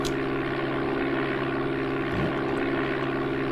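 A propeller aircraft engine drones steadily in the Amiga game Flight Simulator II, a constant buzzing hum with throttle easing down and a brief dip in pitch partway through, no voices present.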